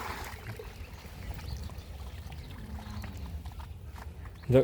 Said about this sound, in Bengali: এটা হলো আপনার সাবমার্সেবল থেকে পানি আসছে